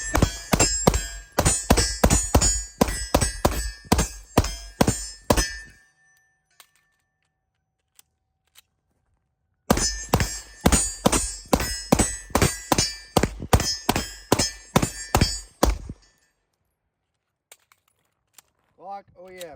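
A PSA Dagger pistol fired rapidly with Glock OEM magazines, two long strings of sharp, loud shots in quick rhythm separated by a pause, with faint clinks of brass between.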